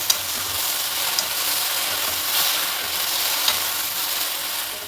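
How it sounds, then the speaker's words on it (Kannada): Okra frying in a pan with tamarind juice added and stirred in, a loud close hiss and sizzle with a few soft scraping clicks, no voices. "ನಾನು ಒಂದು ಟೇಬಲ್ ಸ್ಪೂನಷ್ಟು ಹುಣಸೆ ರಸ ಸೇರಿಸ್ತೆ ಇದಕ್ಕೆ"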